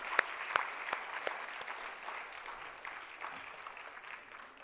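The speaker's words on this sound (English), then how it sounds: "Please give a big round of applause for all the people who have been behind this program" Audience applause at the 2017 annual day of the Padanyaas School of Bharatanatyam, a steady patter of many hands clapping, fairly faint and distant, with a few sharper claps early on before it thins out slightly.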